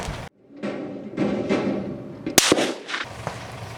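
Springfield Armory rifle fired at an outdoor range: two sharp, loud gunshots close together near the middle, standing out over a steady background rumble and handling noise, with no talk.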